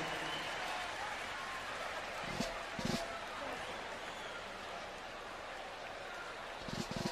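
Faint applause from the audience at a live corridos show drifts in as a soft, steady patter of many hands, with a couple of brief louder bursts partway through and again at the end.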